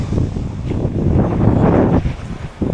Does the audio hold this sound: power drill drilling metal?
no